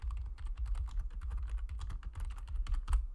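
Steady rapid typing on a computer keyboard while renaming a spreadsheet sheet, crisp close keystrokes over a low hum, with no voices.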